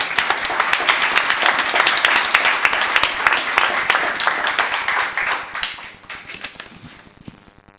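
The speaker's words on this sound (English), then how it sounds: "Another round of applause." An audience at a town council meeting gives a round of applause, dense clapping from many hands that holds steady for several seconds and then thins out and fades toward the end.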